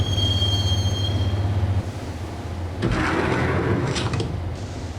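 Subway train in Max Payne rolling into Roscoe Street Station: a steady low rumble with a thin high wheel squeal that drops away, then a hissing clatter of brakes and cars slowing as the train pulls in.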